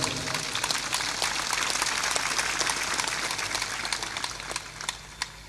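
Audience applause at a motivational speech, a dense patter of many hands clapping that thins out toward the end, with a few louder isolated claps.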